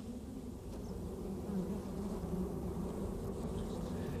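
Steady insect buzzing from bees at their nests in the Sonoran Desert, a continuous low drone that swells slightly after the first second and holds at an even, moderate level.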